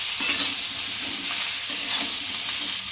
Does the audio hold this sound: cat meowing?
no